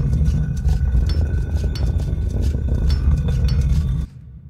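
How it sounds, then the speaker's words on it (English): Tower construction loop from an Unreal Engine 4 game, a loud continuous grinding rumble with scraping texture and faint metallic pings, holding steady before cutting off abruptly near the end. "When the tower construct function is called, the tower construct loop begins, and that sounds like this."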